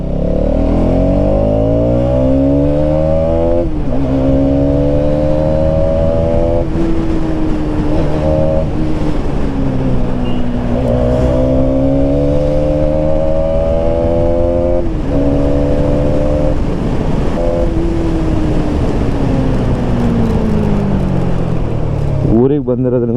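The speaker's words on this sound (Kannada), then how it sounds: "ಎಕ್ಸಾಸ್ಟ್ ಇಲ್ಲದೆ ಇರೋದ್ರಿಂದ, ಲೈಕ್ ಸ್ಟಾಕಲ್ಲಿ ಇರೋದ್ರಿಂದ ಇನ್ಲೈನ್ 4 ಥರ ಸೌಂಡ್ ಬರ್ತಿರ್ಬೋದು ನಿಮಗೆ" A Hero Xtreme 250R motorcycle with its stock exhaust is ridden, its engine note climbing and falling steadily through the gears. Loud and close, it runs without a break.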